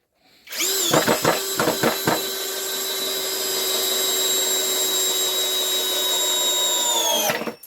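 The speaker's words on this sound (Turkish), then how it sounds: "Ve şimdi 10 santimlik vidamızı atıyorum." A cordless power screwdriver from a four-piece driver set drives a 10 cm screw, starting with a few stuttering bursts and then settling into a long, steady, loud whine before stopping.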